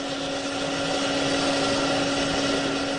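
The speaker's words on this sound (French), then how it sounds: "L'aspirateur a même assez de puissance pour gonfler des objets bien plus grands." A small vacuum cleaner motor runs steadily, inflating a large object: a continuous, even whine with a strong tonal hum, close and loud throughout with no pauses or talk.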